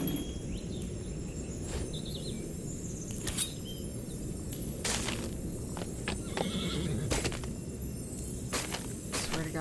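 In a tavern-style video game, a horse whinnies several times over a steady bed of clip-clopping hooves, with crickets and birds in the background and no talking.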